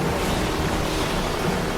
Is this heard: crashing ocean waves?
yes